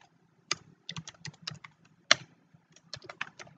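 Username and password being typed on a computer keyboard at a Docker login prompt: a quick, uneven run of light key clicks with short pauses between bursts, close and clear with no talking.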